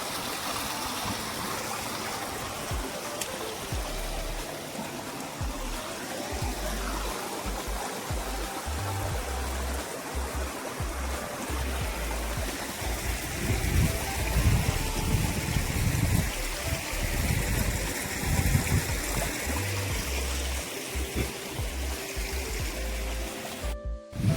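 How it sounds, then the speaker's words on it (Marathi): Monsoon-swollen stream in hilly village country after rain, flowing as a steady, broad rushing wash that swells slightly midway, with a faint voice now and then. "ओढ्याला नदीला नाल्यांना पाणी आलंय बघा"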